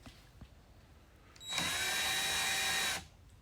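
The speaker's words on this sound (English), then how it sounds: "it makes it much easier with a drill" Power drill turning a headlight adjustment bolt counterclockwise on a Jeep Wrangler, a single loud, steady whirring burst of about a second and a half, preceded by faint handling noises.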